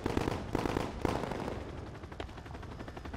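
Rapid bursts of automatic gunfire in a Call of Duty campaign battle, loud and close at first with clustered shots, then thinning into scattered distant firing.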